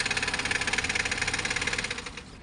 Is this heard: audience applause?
no